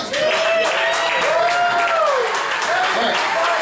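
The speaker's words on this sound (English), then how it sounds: "Give him another round of applause." Applause and cheering rise from a club crowd for a performer, loud and sustained, while a voice speaks over the clapping.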